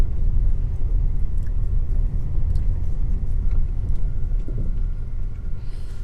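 A car on the road toward Panimur waterfall, heard from inside as a steady low engine and road rumble that holds constant throughout, with no talk.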